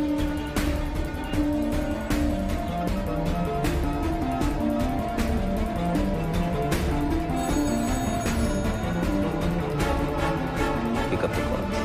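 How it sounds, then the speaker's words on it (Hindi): An office phone in a cabin rings on and on, its bell tones sitting under a dense, loud music bed that fills the whole stretch. "अकबर के कैबिन का फोन लगातार बज रहा है।"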